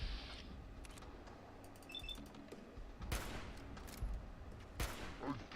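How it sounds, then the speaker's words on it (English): Gunfire in Fallout 4 crackles as scattered distant shots, with a few sharper, louder cracks among softer bursts over a noisy background. "Who is shooting at me?"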